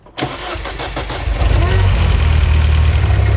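A Mini car engine cranks and catches, then settles into a steady, loud idle with a low rumble that builds and holds close by; a voice is briefly heard near the start.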